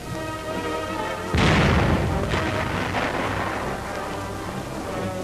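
An M10 tank destroyer's main gun fired manually by the gun commander during a 1943 demonstration: one heavy, booming blast that rolls and rumbles away into a long, fading tail, with no talk.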